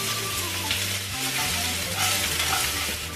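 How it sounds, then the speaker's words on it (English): Chopped onion and garlic sizzle steadily in a hot pan, a continuous close crackle with faint stirring and no talk. "So your sibuyas and your garlic goes in."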